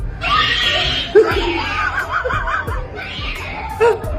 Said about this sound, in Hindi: जैसे ही सामने से चूहियां आती दिखी, दीदी ऐसी चिल्लाई